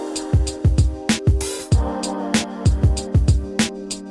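A beat plays with punchy drums, a soul sample and Rhodes piano chords, kicks and snares in a steady groove under sustained mellow keys, loud and clear with no voices.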